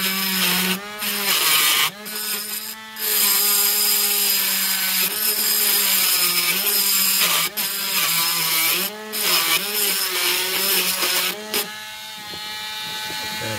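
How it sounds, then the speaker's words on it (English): A rotary grinder works down a Matchbox VW delivery van model, a steady harsh whine with a few brief pauses and one drop in pitch near the end. "So I like to grind this down."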